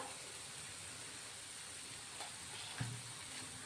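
A sesame and milk mixture, with grated coconut added, is stirred continuously in a pan over heat. A faint, steady sizzle carries soft scraping strokes and one slightly sharper knock.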